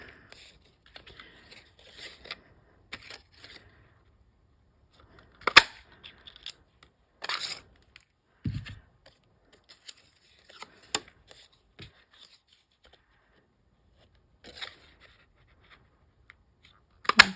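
Paper is punched and torn for card making in sparse, separate bursts: crisp rips and sharp punch clicks come one by one between quiet gaps, close and fairly loud.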